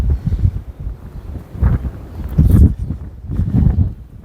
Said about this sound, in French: Il y a encore plus de vent qu'hier.